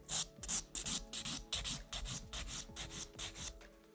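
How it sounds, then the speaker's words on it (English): A nail file rasping acrylic nail product flush with the natural nail in quick repeated close strokes, a dry scratchy rhythm heard alone. "I place my file in that little road and file the product flush with the natural nail"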